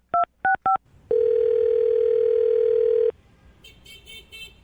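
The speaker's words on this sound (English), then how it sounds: "I'm going to dial his phone number right now" A telephone call being placed: three quick touch-tone key beeps, then a steady two-second phone tone, followed by faint quiet line noise.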